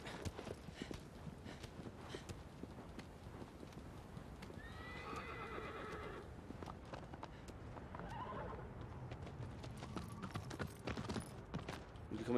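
Horse hooves clip-clopping in a steady rhythm throughout, with a clear neigh partway through, from a horse in the video game Shadow of the Colossus; moderately quiet and heard alone.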